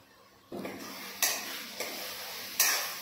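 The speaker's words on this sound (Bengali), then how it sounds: "এখন মশলাটাকে ভালো করে কষিয়ে নেব" Spice paste for a fish egg curry is stir-fried in a pan, with a low sizzle and three or four distinct spatula scrapes in a slow, uneven rhythm. The sound is close and moderately quiet, and nobody speaks.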